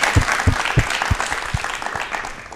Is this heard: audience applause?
yes